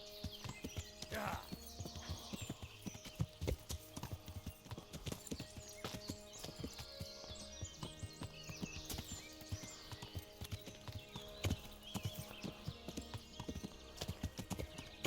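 Hooves of a horse clip-clop steadily along a path in Kingdom Come: Deliverance, a continuous close walking rhythm of sharp clops running the whole time, with an occasional snort and faint ambient sound beneath.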